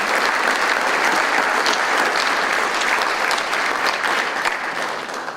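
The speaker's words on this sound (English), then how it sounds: "If we get a brief round of applause for the athletic department for putting all this thing together, appreciate it." Applause from the audience at a sports banquet, a dense and even roar of many hands clapping that stays loud throughout and tapers slightly at the close.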